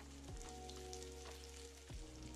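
Onion and potato with turmeric and salt fry in a pan over a medium gas flame, a steady close sizzle broken by two brief stirring scrapes.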